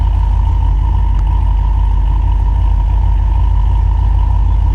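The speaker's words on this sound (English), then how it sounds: "We are in idle. Feet are right there. And we are crawling up this hill." A car with a modern LS V8 idles steadily while crawling slowly up a hill with no pedal input, giving a continuous low engine hum with a faint mid-range drone and no voices.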